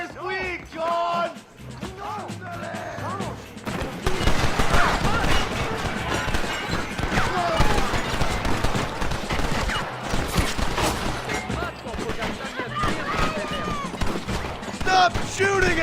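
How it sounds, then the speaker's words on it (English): Heavy gunfire in the Western game Red Dead Redemption at El Presidio, a chaotic fusillade of shots running steadily through most of the stretch after a quieter opening, with character voices shouting over the battle. "Stop shooting at me!"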